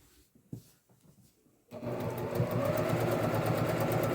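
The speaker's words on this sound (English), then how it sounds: "I'm going to stitch around the top, or around the sides, the top and around that side." A sewing machine stitching around a pocket on a messenger bag: after a second or so of quiet handling and small knocks, a fast, even, motorized stitching runs steadily to the end, close and loud.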